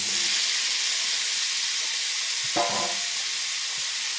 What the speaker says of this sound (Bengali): আলুগুলো সব ভেজে নেব লাল লাল করে